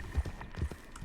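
Horse hooves clip-clopping in Red Dead Redemption 2, a steady walking rhythm of soft thuds, a few clops in quick succession over faint background ambience.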